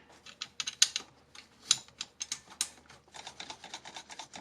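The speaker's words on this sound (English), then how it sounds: "Put the bolt back in." Ratchet wrench driving a bolt back into a 2008 Acura MDX engine, a close series of quick clicking bursts with short pauses between pulls, crisp and fairly loud.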